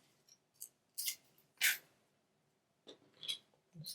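Scissors snipping a paper embellishment for card making, a handful of separate crisp cuts at an uneven pace in a quiet room, close and soft, with no talking.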